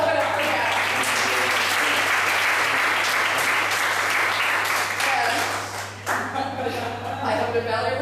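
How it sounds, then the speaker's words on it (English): Steady audience clapping after a talk at a professional development session on dynamic communication, many hands in a full continuous wash that dips briefly near the end before resuming, with a constant electrical hum underneath. "Let's clap it up for that."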